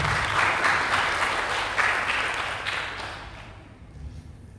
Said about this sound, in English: everyone please give them a warm welcome,